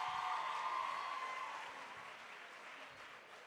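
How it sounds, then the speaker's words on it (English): An audience claps through a public lecture hall after an address by President Cyril Ramaphosa, a dense steady applause that fades gradually toward the end, fairly faint and heard alone. "another round of applause, please"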